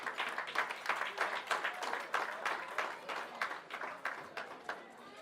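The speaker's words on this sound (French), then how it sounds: "Applaudissez s'il vous plaît." An audience at a family anniversary celebration claps in rhythmic, pulsing waves, fairly close and lively, with no talk over the clapping.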